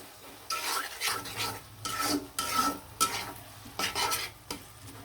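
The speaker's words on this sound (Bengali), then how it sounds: "আরও কষিয়ে নেব বেগুনগুলো খুব সুন্দরভাবে কষিয়ে নেব টমেটোগুলো কিন্তু একদম সুন্দরভাবে কষিয়ে নিলাম" Eggplant and tomatoes sauté in a pan for a hilsa fish curry, with a spoon repeatedly scraping and clattering against the metal. The stirring comes in bursts over a close, steady sizzle.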